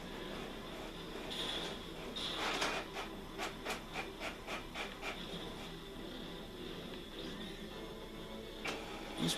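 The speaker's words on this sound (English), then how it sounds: "The printer's going off." A printer running in a room during gameplay, giving a series of regular mechanical clicks and rubbing strokes at moderate volume over a steady background hum.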